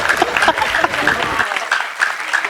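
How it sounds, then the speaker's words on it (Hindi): An audience at a mushaira poetry gathering in Patiala, Punjab breaks into loud, close applause in dense bursts, with a voice speaking over the clapping. "बहुत एक बार जोरदार तालियां होनी बहुत चाहिए।"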